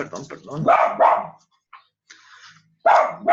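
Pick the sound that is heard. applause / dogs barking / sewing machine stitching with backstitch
dogs barking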